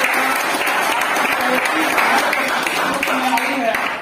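An audience at a KTM RC motorcycle launch event claps in a steady, dense round of applause, fairly close and loud, with some voices mixed in before it fades at the end.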